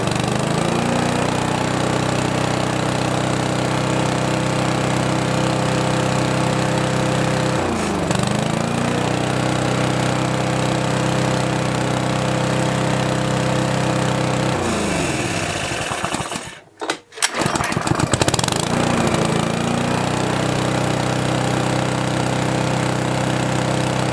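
A petrol lawn mower engine runs steadily and loudly throughout, briefly dipping and sputtering once before picking back up.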